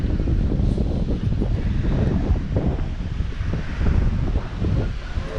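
Strong sea wind on a Pondicherry beach buffets the microphone in heavy, loud rumbling gusts that surge and ease, with surf faintly mixed in beneath the roar.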